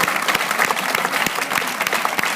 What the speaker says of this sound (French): On peut l'applaudir très fort, s'il vous plaît.